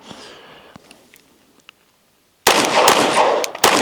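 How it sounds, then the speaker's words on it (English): Rifle gunfire through a Radian Afterburner Ramjet compensator: a quiet lead-in with a couple of small clicks, then a loud dense burst of close shots crowding together in the last second and a half. "first 6 shots with the Radian Afterburner Ramjet compensator"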